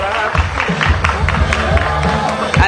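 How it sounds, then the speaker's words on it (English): A crowd claps and cheers at a kart racing awards ceremony, a steady wash of applause mixed with a low rumble and background noise. "A round of applause, please."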